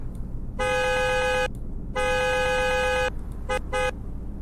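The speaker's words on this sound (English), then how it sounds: "Here's what its horn sounds like." A video game car horn, the 2015 Chevlon Calle, honks two long blasts, then two quick short beeps, loud and close.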